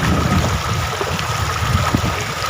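A river flows at a hidden spot in Assam, a continuous close rush and gurgle of moving water with a low rumbling undertone, steady throughout with no talking.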